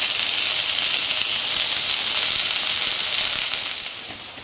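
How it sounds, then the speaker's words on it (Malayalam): Onion, green chilli, ginger, garlic, capsicum and tomato sauté with a little salt for Tenkasi-style egg rice in a home kitchen, giving a steady, loud, close sizzle that fades slightly at the end, with no talking. "ഇത് ലേശം ഉപ്പ് ഇട്ടിട്ട് നമുക്കൊന്ന് വഴറ്റിയെടുക്കാം"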